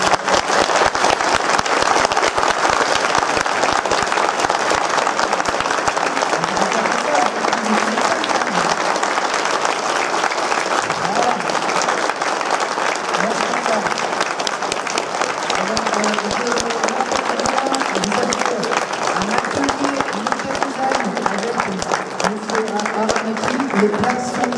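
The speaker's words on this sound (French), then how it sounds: "Je vous demande un tonnerre d'applaudissements pour monsieur." Sustained audience applause at a conference hall, a dense, loud wash of clapping lasting the whole stretch and slowly thinning toward the end, with a voice speaking over it.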